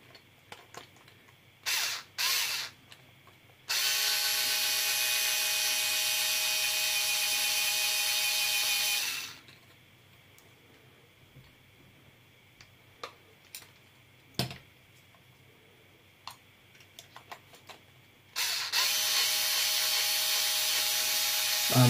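Short bursts of a power driver remove the 2mm screws holding the output drives on a Losi LMT RC truck with a Vitavon 7075 rear axle housing: a steady mechanical whir for several seconds, a quiet pause with small clicks, then another burst.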